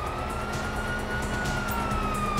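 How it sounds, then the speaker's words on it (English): A police siren in GTA 5 wails steadily and loudly, layered over a constant engine-like rumble with no pauses. "you hear that? Sirens."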